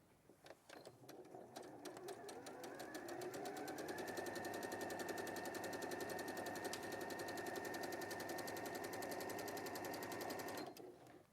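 Sewing machine stitching forward and then backward, opening with a few quick taps before settling into a fast, steady mechanical rattle that stops abruptly near the end, close and alone without talk.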